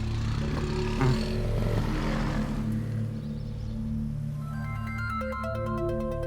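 Over a steady engine drone, a phone ringtone starts partway through, playing a repeating melodic pattern of electronic tones.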